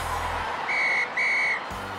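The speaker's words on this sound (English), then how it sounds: "And that's the final whistle." A referee's whistle in a cartoon football match gives two loud, shrill blasts, the second slightly longer, signalling full time, over a faint musical background.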